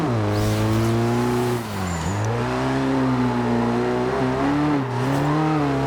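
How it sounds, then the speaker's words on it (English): Nissan S15 in Forza Horizon 2 held in third gear, engine droning and bogging with a strained, slowly wavering pitch, loud and continuous with a brief dip partway through. "if I try some third gear, you see how it's like bogging down a little bit, and it's not got enough power to spin those wheels"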